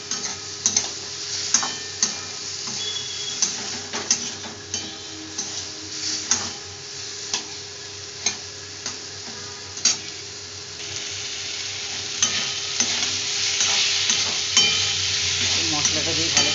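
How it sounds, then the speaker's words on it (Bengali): Cumin powder and spices sautéed in a pan for a vegetarian cauliflower, potato and soybean dish, with a steady sizzle under rhythmic scraping strokes of a spoon stirring throughout, close and fairly quiet. "আমি এর মধ্যে জিরে গুঁড়ো দিয়ে দিলাম পরিমাণ মতন। এইটাকে দিয়ে ভালো করে কষে দেবো।"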